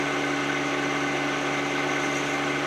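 A HydrosPlus stage 2 hydraulic auger drive on a 1 Series tractor runs at wide open throttle, giving a steady, continuous engine drone with a constant hum and no change in pitch throughout.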